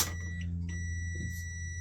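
A multimeter beeping during a continuity test on a geyser isolator, a faint steady electronic tone held for under two seconds with a low hum beneath.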